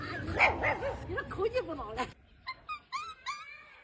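A man imitates a dog's bark with a run of voiced woofs, then a real dog answers with several short, high yelping barks, close and clear in a quieter space.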